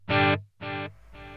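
A guitar-pedal delay effect makes a sung or shouted tone repeat in three distinct, evenly spaced echoes, each quieter and fainter than the last, imitated by voice.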